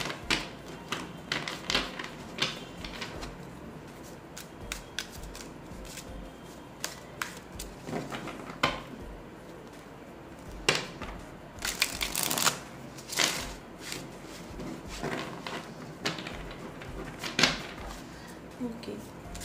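Tarot cards are shuffled by hand in a crisp, papery rustle of riffles and slides that come in uneven bursts for about twenty seconds, close up, with a voice speaking softly at times.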